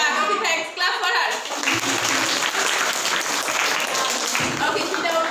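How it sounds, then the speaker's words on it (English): Students in a classroom clap together for a classmate during an English vocabulary game, a loud close burst of hand claps with children's voices and chatter mixed throughout. "Clap for her."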